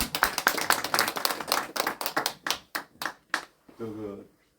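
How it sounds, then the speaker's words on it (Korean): A small group claps briskly, the applause thinning out to a few scattered claps before a voice briefly speaks. "박수"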